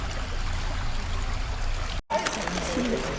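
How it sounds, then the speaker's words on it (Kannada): A river flows steadily at the Kottiyur pilgrimage site, a close, continuous rush of water with voices speaking nearby during the second half. "ಸೊ ಹೊಳೆ ಹರಿತಾ ಇತ್ತು"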